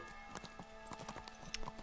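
Horse hooves clip-clopping in Kingdom Come: Deliverance, a quiet walking rhythm of hoofbeats on hard ground with faint ambient game sound, no talking.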